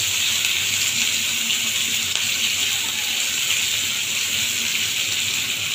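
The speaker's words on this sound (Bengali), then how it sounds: "আলুটাকে এর উপরে একটু হালকা নেড়ে চেড়ে ভাজা ভাজা করে নেব।" Thinly sliced potatoes fry in hot oil in a pan, giving a loud, steady, close sizzle that continues throughout with faint stirring noises beneath.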